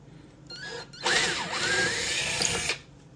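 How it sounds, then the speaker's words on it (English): A power drill bores out holes in wood for T-nuts for number 8 screws on a pinball kit: a short spin-up, then a loud, steady whirring grind that shifts in pitch as the bit bites, stopping abruptly. "we're just going to clear out these holes here where the T-nut for our number 8 screws will go for our gates"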